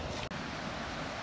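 Small ocean waves breaking at a surf spot, a steady, soft rush of surf and wind noise with a brief dropout near the start and no voices.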